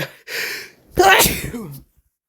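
A single loud, close sneeze: a short breathy intake followed by a sharp explosive burst, then a brief trailing vocal sound before silence.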